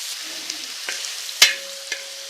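Tomatoes and green chillies sautéing in a pan for a home-cooked biriyani, a soft steady sizzle with a few sharp spoon clicks and stirring knocks scattered through, close and moderately quiet with no talk.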